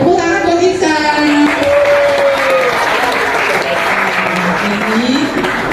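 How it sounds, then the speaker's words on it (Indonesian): Applause for a boy named Iksan at a dengue health talk and check-up at an Islamic boarding school, loud clapping from a close crowd of children, with a voice and children's voices heard over it. "Tepuk tangan buat Iksan."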